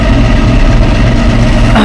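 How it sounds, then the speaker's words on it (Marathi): Shimla–Kalka toy train locomotive idling at a snowy station, a loud, steady low rumble of the engine holding close by without revving, with no voices over it. "इंजिन केव्हापासून चालू आहे"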